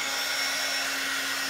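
A hair dryer blows steadily and loudly close by while drying a repainted hen figure, a constant whooshing whine with no break.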